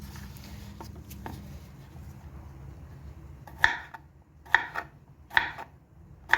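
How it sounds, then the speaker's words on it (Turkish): Four sharp knife chops on a cutting board, evenly spaced, over a faint background hum; jalapeño peppers being cut close by. "Biberleri ucundan doğrayalım ki eğri olmasın."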